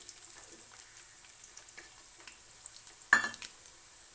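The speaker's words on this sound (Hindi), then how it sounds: "अब यहाँ घी गर्म हो चुका है, तो अब इसमें ये मैं ऐड कर रही हूँ प्याज।" Chopped onion drops into hot ghee in a pan for a home-style dal chawal recipe, starting with a faint background crackle and then a sudden loud sizzling burst that quickly settles; no one talks.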